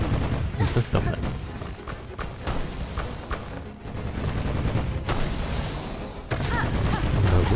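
Explosions in the game Hollow Knight: Silksong burst loudly in rapid succession, with sharp cracks and rumbling booms layered over busy combat noise.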